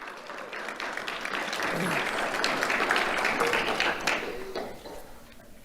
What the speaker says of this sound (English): Let's have a round of applause for Annabella Mingela